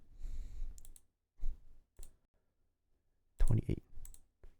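Computer keys are typed in short bursts of clicks separated by pauses, close and fairly quiet, with a few soft breaths between them.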